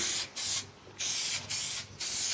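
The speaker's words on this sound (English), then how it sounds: "this is just a simple spray glue. You can put it on" Contact adhesive spray glue hisses from an aerosol can in four short, steady bursts with brief pauses between them, close and fairly quiet.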